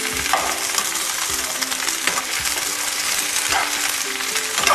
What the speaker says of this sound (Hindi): हल्टी पल्टी करते रहना, इसको भूंज लेना।